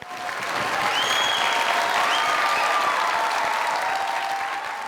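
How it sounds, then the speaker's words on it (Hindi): Studio audience applause for a guest on a Pakistani comedy talk show, a steady, dense wash of many hands clapping that swells quickly, holds evenly and tapers slightly at the end, with no talking over it. "इनके लिए जोरदार तालियां।"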